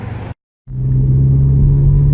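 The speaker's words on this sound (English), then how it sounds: "We actually got the car started, and it is running and driving." A car engine starts after a moment of silence and settles into a loud, steady low rumble, heard up close and alone.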